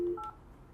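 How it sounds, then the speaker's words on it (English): A teacher's desk phone plays short keypad tones on the speakerphone: a single brief tone followed by a second higher tone, quiet and close, lasting under a second. "I'm going to use the speakerphone button, press 8,"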